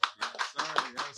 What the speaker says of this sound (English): Studio audience, let me get a round of applause.